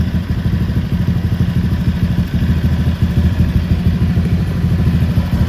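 A Honda Vario LED Old motorcycle engine runs with a steady, close, rhythmic chugging idle that continues evenly throughout.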